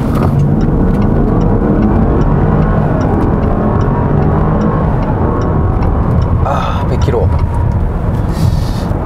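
A Range Rover LWB Autobiography with a 525-horsepower 5.0-litre engine accelerates hard in sport mode. A loud, continuous engine and road roar fills the cabin for the whole run.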